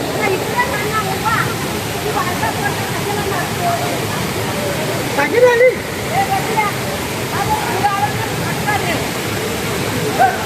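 Heavy floodwater roars over a bridge after sudden rain, a loud, constant rushing wash close by, with a voice speaking over it.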